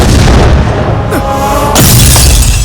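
In a Tamil film scene, a loud, close explosion booms across the whole soundtrack, followed by a second heavy burst with crackling debris.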